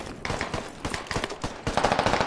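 Sustained machine gun suppressing fire in the military shooter game Squad, at an abandoned Soviet base, with rapid repeated bursts loud and close throughout the short stretch and no talking over it.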